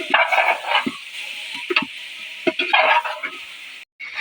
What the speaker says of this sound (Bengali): ইমরান নাড়া দাও।